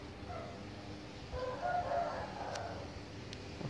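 Outdoors, a rooster crows faintly in the distance, partly buried in steady background noise, with no talking.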